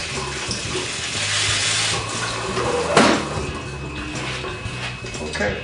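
Tap water runs steadily into a sink while a measuring cup is rinsed during home winemaking, with a brief splash or clatter midway. The sound is close and moderate in level.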